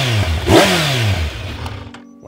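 A 2025 Kawasaki Z900 motorcycle on its stock exhaust, outdoors near a golf course, fires up with a quick high-pitched rev that swells and falls back to a steady idle, close and fairly loud.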